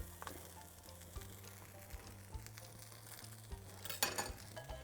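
A tortilla with cheese frying in a pan, giving a faint, soft steady sizzle with light taps and clinks of a knife on the pan, quiet and close, with no talk.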